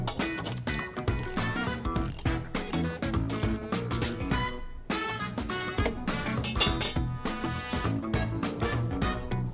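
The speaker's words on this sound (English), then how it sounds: "you're going to retighten your security stem to the base plate with your socket wrench" A socket wrench ratchets steadily as it retightens the security stem of a cantilever parasol to its base plate. The clicking is loud and close, with metallic clinks mixed in and a brief pause midway.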